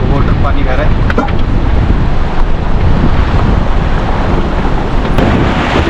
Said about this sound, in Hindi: ये देखो वाटर पानी बह रहा है।